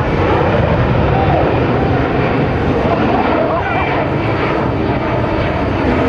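A C-17 Globemaster III military transport jet adds engine power in flight during an air show demonstration, giving a loud, steady, broadband jet roar that fills the whole clip without pause.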